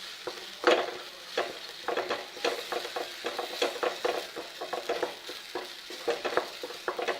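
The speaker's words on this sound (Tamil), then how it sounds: "இப்போ மசாலா எல்லாம் நல்லா ஃப்ரை ஆகிடுது" Masala frying in hot oil for a Tamil brinjal curry, kathirikai kulambu, with steady close sizzling broken by frequent stirring scrapes and taps of a spoon in the pan, no voices.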